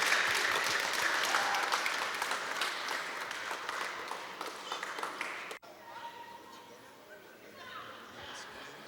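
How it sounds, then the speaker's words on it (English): A crowd at a hockey banquet gives a round of applause, dense clapping that runs for several seconds and cuts off abruptly, then quieter room murmur with a voice speaking. "Can we give another round of applause for"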